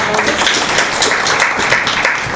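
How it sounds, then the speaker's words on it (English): An audience at the launch of the 2023 State of World Population Report applauds, dense steady clapping filling the room loudly throughout, with a voice speaking briefly over it. "A round of applause"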